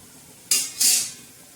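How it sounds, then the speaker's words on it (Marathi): Fried eggplant and potato sabzi being stirred in a pan, giving two short scraping, clattering bursts of utensil against cookware, close and fairly loud, with quiet gaps around them. "आता मस्तपैकी असे छान आपण हलवून घेणार आहोत."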